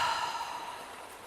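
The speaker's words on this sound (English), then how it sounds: "Exhale through the mouth" A single long, soft breath is let out through the mouth, airy and steady, close to the microphone and fading gently over about a second.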